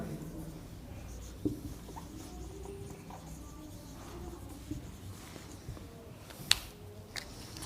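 A marker writes on a board during a maths lesson, giving soft, scratchy strokes with a few sharp taps as it touches down and lifts off, fairly quiet against a low room hum.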